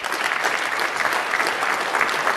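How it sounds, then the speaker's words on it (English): A tech conference audience breaks into steady, dense applause that fills the hall continuously for a couple of seconds. "it's okay to clap. We like that."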